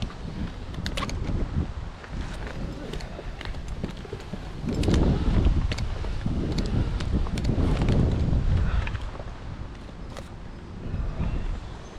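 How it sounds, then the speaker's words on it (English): Strong wind buffeting across an open hilltop, gusting and roaring in uneven surges with heavy microphone rumble, swelling loudest in the middle before easing. "It is windy up there."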